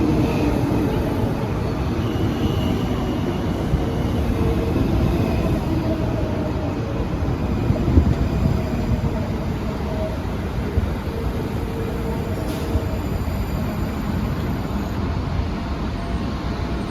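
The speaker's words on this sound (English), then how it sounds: "The Dulles Airport train." A Washington Metro Silver Line train bound for Dulles Airport arrives with a continuous rumbling roar of wheels on rail, steady and fairly loud throughout.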